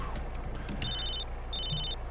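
A phone ringing in GTA San Andreas, two short electronic trills separated by a pause, heard over a low engine and ambient hum.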